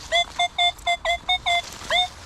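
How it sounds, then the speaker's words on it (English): A metal detector sweeps over an iron target at a UK field edge and gives a rapid, even train of about eight loud, clipped electronic blips, then one longer beep after a short pause. "Listen to that horrible forced signal. Blip, blip, blip."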